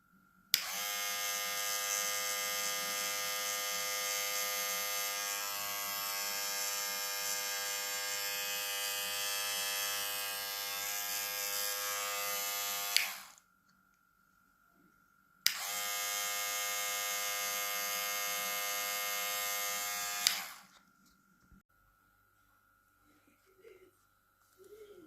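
A Suprent HC 295s hair clipper runs in two long stretches of steady, loud, high-pitched motor buzz, about thirteen and five seconds long, each stopping abruptly, with quiet gaps between and after.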